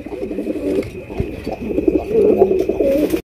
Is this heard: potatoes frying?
no